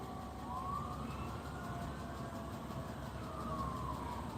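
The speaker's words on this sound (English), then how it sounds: "Y'all hear the sirens?" Distant emergency sirens wail and rise and fall faintly over a steady background rumble, with no voices nearby.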